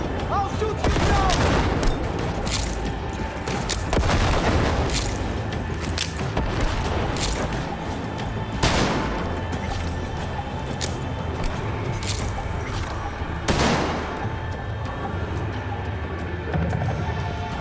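Bursts of gunfire while fighting an enemy in Cyberpunk 2077, several sharp loud volleys spaced a few seconds apart over a busy game soundscape, with a voice talking faintly at times.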